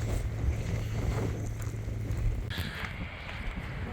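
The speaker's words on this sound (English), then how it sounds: "lots of wind up here" Steady, blustery wind roars across an open microphone on a clifftop in Iceland, a constant low rumble with gusty buffeting and no voices.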